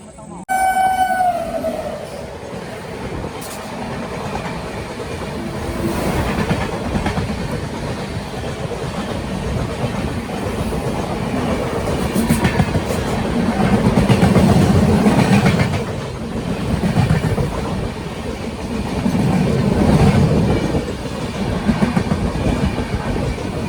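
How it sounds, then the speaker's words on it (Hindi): Madurai Superfast Express (12688 from Chandigarh) arriving at Jhansi's Virangana Lakshmibai station, a short horn blast at the start, then a steady loud rumble and rhythmic clatter of coaches rolling past nearby. "10 मिनट डिले होने के बाद पहुंच रही है वीरांगना Lakshmibai railway station, Madurai superfast express."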